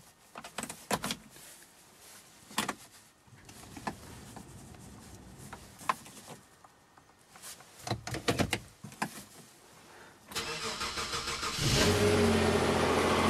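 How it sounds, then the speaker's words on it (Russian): Kia Sorento engine starting after more than two months of winter storage: scattered clunks and brief bursts first, then near the end the engine catches and settles into a loud, steady running roar close by. "Попробуем завести машину после более двухмесячного простоя зимой."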